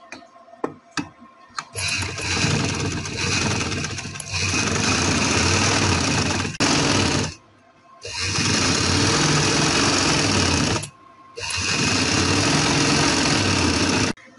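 A sewing machine stitching a folded trouser hem, running in long loud steady whirring bursts separated by brief pauses, with a few clicks at the start.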